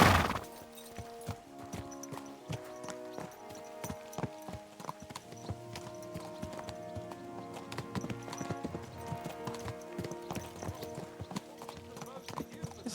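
Rhythmic clip-clop of horse hooves trotting steadily in the video game Kingdom Come: Deliverance 2, over a background of layered musical tones, with a brief loud burst at the start.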